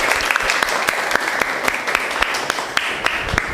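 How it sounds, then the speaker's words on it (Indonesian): A classroom of students clapping together, dense and fairly close, with a few sharper individual claps standing out over the steady applause for a few seconds. "Tepuk tangan dulu."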